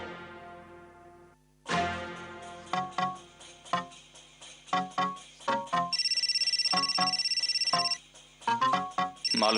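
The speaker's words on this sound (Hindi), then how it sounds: "मालूम था आरती जी का दोबारा फोन आएगा।" A melodic electronic ringtone plays a bright chiming tune with a steady repeating pattern, loud and clear with no voices.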